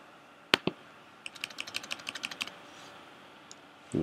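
Fingers tap a computer keyboard nearby while entering router commands: two sharp isolated clicks, then a quick run of about a dozen keystrokes, a pause, and a final stray tap, all fairly quiet with no talking.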